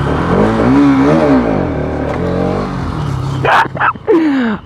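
A motorcycle engine revs hard for a wheelie on a mountain ride near Banihal, a loud, close rising and falling whine followed by sharp throttle blips and another climbing rev.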